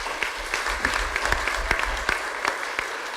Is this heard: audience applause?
yes